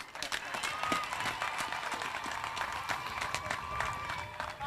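Crowd at an outdoor national malaria vaccination launch in Apac District, Uganda, clapping hands in a dense ongoing patter, with a voice talking over it.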